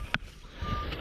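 A Minelab X-TERRA 705 metal detector sounds a single short electronic beep during a search for gold, followed by a thin, faint steady tone under low background rumble.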